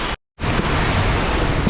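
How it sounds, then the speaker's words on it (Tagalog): Loud roaring wind from Typhoon Uwan buffeting the microphone, a constant rushing blast broken only by a brief dropout near the start. "Lakas ng hangin."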